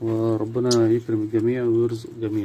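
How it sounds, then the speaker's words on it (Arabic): Doves kept in a breeding setup coo steadily and close, in low rounded repeated calls, while someone speaks over them throughout. "اليمام جميل ومريح نفسيا"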